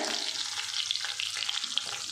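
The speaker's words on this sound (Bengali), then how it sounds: "এই দেখো মাছটা ভাজা হচ্ছে" Fish pieces fry in hot oil in a home kitchen pan, giving a steady close sizzle with small crackles and pops scattered throughout and no voices.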